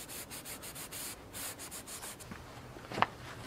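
A Scotch-Brite pad scrubs bicycle spokes in quick, steady rubbing strokes, close and fairly quiet, with a small knock near the end.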